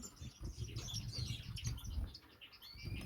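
Small Gouldian finches in an aviary chirp and tweet in quick, soft bursts, with light wing flutters and rustling nearby.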